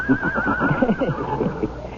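A large, strong horse gives a loud, close whinny in a radio drama, one long wavering neigh lasting about two seconds against a full background.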